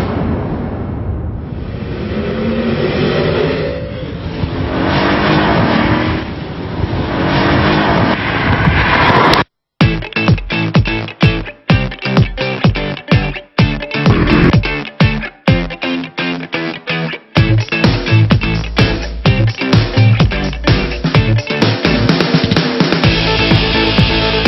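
A Mercedes-Benz E63 AMG on the Buddh International Circuit, its engine roaring loud and close with rising revs, then rhythmic pulsing passes and sharp gear changes over driving music.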